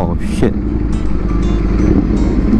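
A Ducati V4S motorcycle's V4 engine rumbling and blipping the throttle in short revs, loud and close, with someone talking over it.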